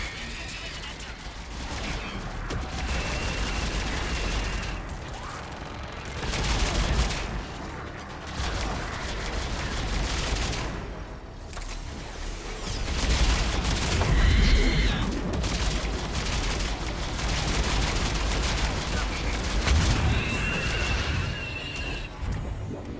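Mass Effect 3 combat with dense, sustained rapid gunfire and mechanical clatter. Loud bursts swell and fade over a constant roar, with occasional tonal beeps and no clear speech.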